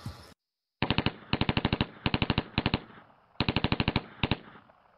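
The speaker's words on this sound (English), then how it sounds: "That's the first gunshot I've heard, right?" Automatic gunfire in Call of Duty Warzone, several loud, close bursts of rapid shots in tight clusters separated by short pauses, with no talking.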